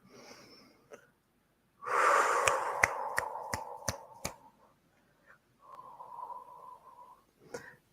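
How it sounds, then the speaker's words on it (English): A deep breath drawn in during a guided energy-healing meditation, a soft airy inhale that swells and lingers, broken by a few sharp clicks, followed by quieter breathy sounds. "so deep breath in."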